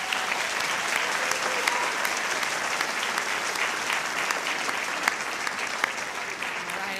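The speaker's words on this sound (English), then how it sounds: "let's have one more round of applause for our finalists" A large audience at the 2022 TOY Awards gives a sustained round of applause for the finalists, dense even clapping throughout with occasional sharper claps standing out.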